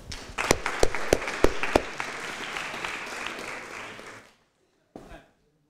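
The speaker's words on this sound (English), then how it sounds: "Please, a warm round of applause for Ted." An audience at a student debate applauds a speaker, a few sharp close claps standing out over a broad round of clapping that cuts off, followed by a brief clap near the end.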